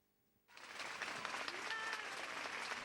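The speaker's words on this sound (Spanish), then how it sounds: "Ovación a la salida del ayuntamiento." Silence gives way abruptly to a dense crowd ovation outside Seville city hall, many hands clapping loudly and continuously with faint cheers mixed in, heard from amid the packed street.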